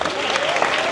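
An audience breaks into dense, continuous applause for the film guests at a Texas Chainsaw Massacre 50th anniversary Q&A, a steady wash of many hands clapping with faint crowd murmur.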